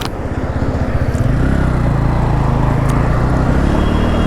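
A 2023 Bajaj Pulsar P150 motorcycle engine just started, idling close by with a loud, steady low thrum that settles and firms up after a brief rise in the first second.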